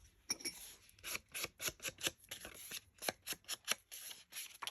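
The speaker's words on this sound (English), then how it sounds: "I'm just going to cut off the white part of the tag" Scissors snip through a paper tag to trim off its white part, making a quick series of close, crisp cutting and rustling strokes in an uneven rhythm, with no talking.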